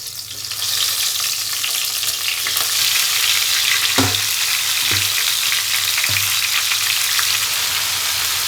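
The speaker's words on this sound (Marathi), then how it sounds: "तेल गरम झालेलं आहे आता आपण वांगे टाकू" Stuffed brinjals (eggplants) fry in hot oil in a kadai, making a loud, steady sizzle throughout with a few clanks of a utensil against the pan, and no voices.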